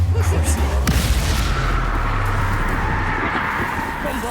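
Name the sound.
Confringo blast spell from Hogwarts Legacy video game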